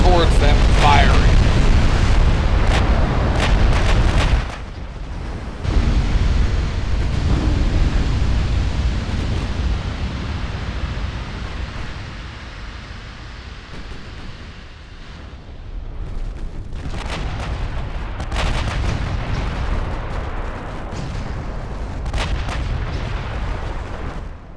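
Battleship main guns firing in the naval strategy game Ultimate Admiral Dreadnoughts: heavy booming salvos and rumbling blasts, loud and dense at first, easing into a rolling low roar before more distant shots return.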